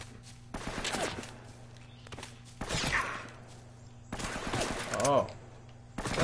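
Bursts of gunfire in Uncharted: Drake's Fortune, separated by short quiet gaps, with thumping impacts and a player exclaiming briefly in between.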